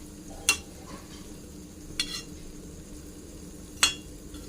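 Palm fruit fritters (taler bora) fry gently in hot oil with a soft, steady sizzle, broken by three sharp metallic clinks of a utensil against the pan.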